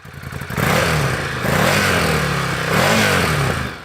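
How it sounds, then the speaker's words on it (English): A Ducati Scrambler's 803cc air-cooled L-twin engine rumbles loudly and steadily, revving up in a few swells with a throaty, lumpy tone. "You've got the 803cc air-cooled L-twin engine"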